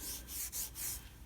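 Fingers massage trim restorer into car trim, producing soft, close rubbing strokes in a quick back-and-forth rhythm, a few swipes in a row with no talking.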